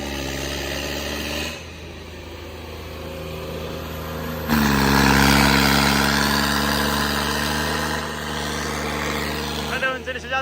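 A John Deere 5210 tractor engine hums steadily nearby, then revs up sharply and holds a louder, higher drone before easing back, with people talking over it.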